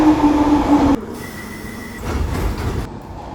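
An Elizabeth line train pulls into a London station with loud rumbling and a sustained wheel squeal, then a lower rolling rumble as it slows. No voices are heard.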